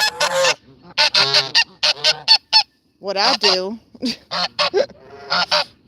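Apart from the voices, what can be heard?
geese honking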